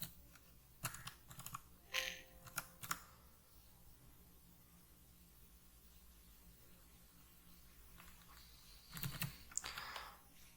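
Bursts of typing on a computer keyboard while entering a Matlab function, quiet clusters of rapid key clicks separated by pauses, close and soft.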